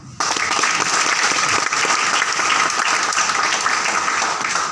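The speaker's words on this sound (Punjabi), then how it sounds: "ਮਾਰੇ ਕੋਈ ਤਾੜੀ" Dense, steady applause from a crowd at an IMC recognition and award seminar in Bathinda, loud and continuous for nearly five seconds after a brief quiet start, with no talking over it.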